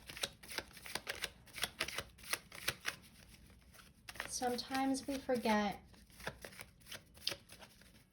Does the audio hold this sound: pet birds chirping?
no